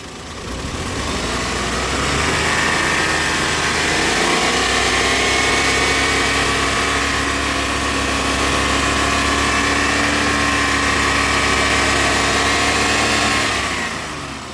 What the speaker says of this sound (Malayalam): അപ്പം എഞ്ചിനൊക്കെ നല്ല സ്മൂത്ത് സൗണ്ടാണ് കേട്ടോ.